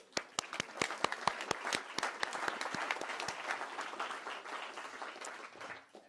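An audience at an awards ceremony applauds with a burst of sharp individual claps at first, thickening into steady, moderately distant clapping that fades toward the end.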